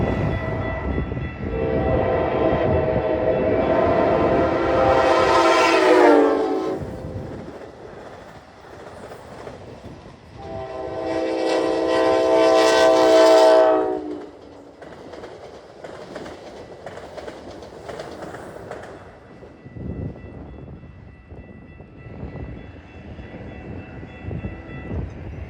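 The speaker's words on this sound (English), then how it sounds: "Two Amtrak Hiawatha trains converge on Rondout simultaneously" Two Amtrak Hiawatha passenger trains pass at Rondout, Illinois, each sounding a loud, drawn-out horn blast with rumbling wheels and rail clatter underneath, then fading to distant rumble.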